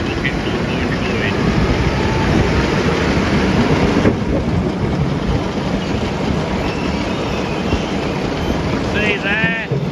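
A farm loader's engine revs steadily, a loud broadband rumble that holds for the whole stretch, joined near the end by faint squealing or whistling sounds.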